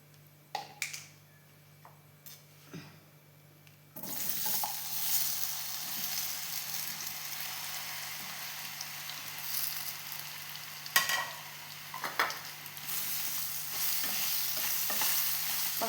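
Banana pieces sauté in a pan, starting with a few clinks, then a steady bright sizzle that jumps in at about four seconds, broken by sharp spatula taps and scrapes as they are stirred.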